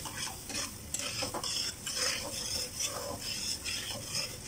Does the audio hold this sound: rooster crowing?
no